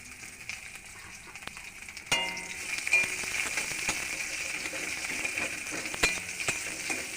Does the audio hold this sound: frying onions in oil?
yes